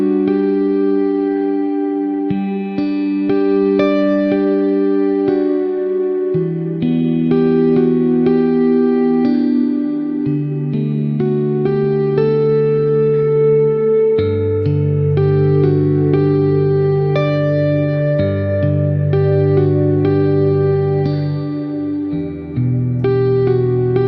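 A Fracture Sounds Hemisphere patch called A Safe Place: a lush, reverberant synth pad with echoing, chorused tones and slowly shifting sustained chords under sparkling upper notes, loud and continuous throughout.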